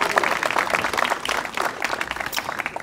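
A crowd applauds at a zoo reopening event, a brief burst of mixed clapping at moderate distance, with some voices over it.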